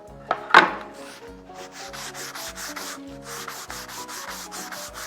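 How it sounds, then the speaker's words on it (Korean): Steady back-and-forth rasping of sandpaper on wood along the grain, in regular strokes, close by, after a brief louder scrape at the start. "그래서 결과 같은 방향으로 사포질을 해주면 좋습니다."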